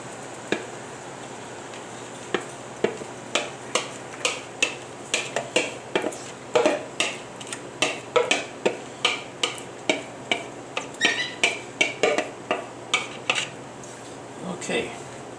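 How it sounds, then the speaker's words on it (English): Chopped green tomatoes and other vegetables go into a pot of boiling relish on a stove, heard as a close run of sharp clinks and knocks of a utensil against the pot, steady then bunching up, with no voices. "Now we want to add everything we chopped up."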